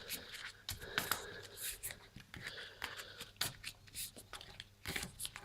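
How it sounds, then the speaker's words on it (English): A deck of tabletop game cards is shuffled by hand close up, with soft irregular riffling and sliding bursts, faint muffled talk behind. "shuffle them in some way."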